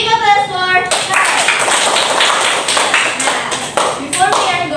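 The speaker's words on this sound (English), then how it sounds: "Big applause for her." A classroom of students claps for a classmate, a close, brisk burst of applause with a speaking voice briefly before and after it.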